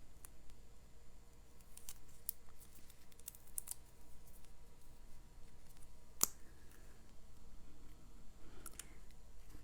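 Scissors snip a piece of cardstock down to size for a handmade masculine greeting card, a few faint, sharp cuts standing out over a low steady room hiss.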